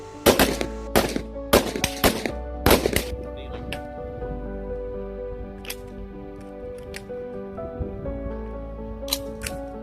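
Rifle gunfire at an America's Rifle Challenge match: a cluster of loud, sharp shots close by at the start, then scattered fainter single shots further off.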